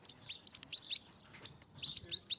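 Hawfinch at a wildlife rescue centre giving a rapid series of sharp, high chirps and short call notes in quick bursts, close and fairly loud, with no talking.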